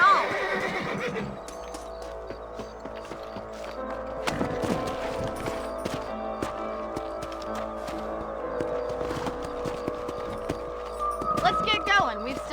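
Horses whinny and snort over steady clip-clopping hooves in the video game Red Dead Redemption: Undead Nightmare, with background music and a voice talking at moments.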